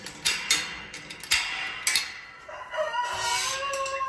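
A rooster crows on a farm while chickens cluck around it in a close, busy chorus of sharp calls, with a long drawn crow rising near the end.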